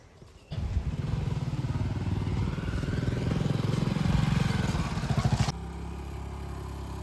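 A motorcycle engine catches abruptly and runs close by at a steady, rough, clattering rhythm for several seconds before cutting off sharply.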